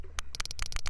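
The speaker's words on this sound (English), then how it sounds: "is the sound of sperm whales" Sperm whale clicks recorded underwater: a rapid, irregular train of broadband clicks over a steady low rumble, close and fairly loud, with no talking.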